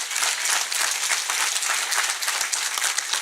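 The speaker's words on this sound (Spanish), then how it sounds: "Dele, si va a aplaudir, hágalo con ganas" Church congregation during a Spanish-language sermon clapping vigorously in a dense, continuous burst of many hands, loud and close with no talk over it.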